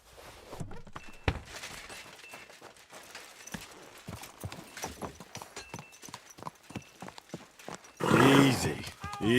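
Horse neighing and hooves clip-clopping in the medieval game Kingdom Come Deliverance 2, steady hoofbeats throughout ending in a loud, close whinny, with someone talking over the sounds.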